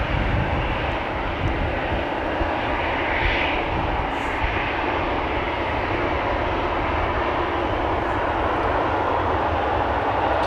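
A KLM airliner lines up at Amsterdam Schiphol Airport on a cloudy day, with a steady, loud jet engine roar that holds for the whole stretch and carries no speech.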